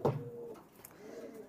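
A young male golden pigeon coos softly nearby, a low rolling murmur after an opening thump, rising and fading over a second and a half with faint background noise.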